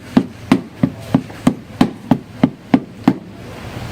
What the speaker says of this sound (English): here's a drum beat you've probably heard from those movies and TV.